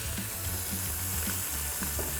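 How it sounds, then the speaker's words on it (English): Beef pieces sear in a hot pan on an induction cooktop for a red-wine braised stew, a steady loud sizzle and hiss with faint stirring underneath. "bump up the heat and get a nice, beautiful sear"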